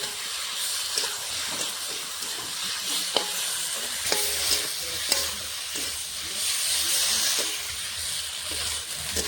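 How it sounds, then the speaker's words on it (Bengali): Potatoes sautéed in a pan with spices and ginger-cumin paste, a gentle sizzle with intermittent spoon scrapes and taps against the pan, moderately quiet and close. "মশলার সঙ্গে আলুটা কষিয়ে নেব, হালকা করে কষাবো।"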